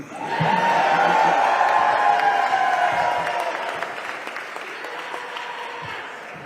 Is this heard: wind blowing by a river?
no